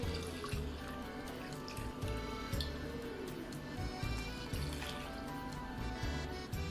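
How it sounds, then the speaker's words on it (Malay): Pandan water poured from a cup into a batter of coconut milk and wheat flour for kuih bakar pandan, a soft continuous liquid trickle with small splashes, quiet and close. "Kemudian 1 cawan air pandan."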